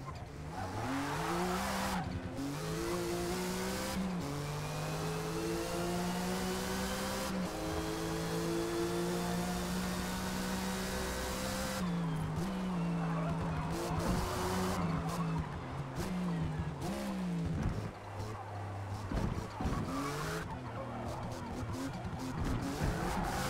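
In a racing video game, a Porsche 935 race car screams through gears with a rising and falling engine drone, tires squealing and skidding through corners, sustained and loud throughout.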